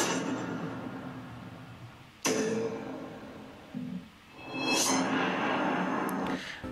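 A cinematic impact hit used to open a music track: a sharp, booming strike lands midway through, followed by a swelling whoosh and a second rising burst over a low rumbling bed.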